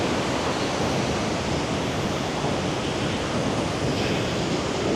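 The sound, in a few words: waterfall roaring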